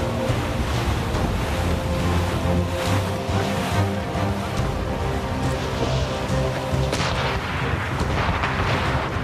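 Ship cannons firing in Assassin's Creed Rogue, heavy booming blasts rolling over constant ocean surf and wind, dense and loud throughout.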